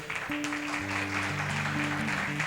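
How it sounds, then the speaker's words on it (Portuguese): Congregation members clap together in a Portuguese-language church service, quick overlapping claps running over sustained keyboard or organ chords that hold low and steady beneath them. "Você consegue aplaudir o Senhor?"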